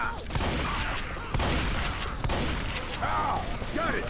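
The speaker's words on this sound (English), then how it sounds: "Shoot them! Shoot them all!" Video game gunfire from shooting at zombies, with dense, continuous shots and bursts layered over in-game noise, plus a few faint voice-like tones later.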